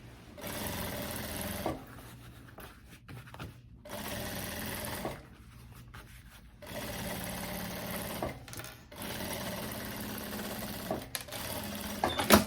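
A sewing machine runs a side seam on a faux leather (courino) midi skirt, stitching in steady close bursts broken by brief pauses.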